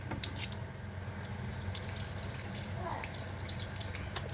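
Water pours steadily into a pot of tilapia being prepared for paksiw with coconut milk, a continuous splashing stream running throughout, close and moderately loud, with no talking over it.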